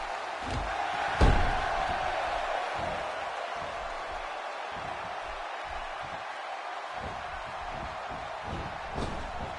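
Crowd noise from a WWE 2K16 SmackDown wrestling arena in the video game: a steady, wide roar of cheering with one sharp slam impact early on and a faint bump near the end.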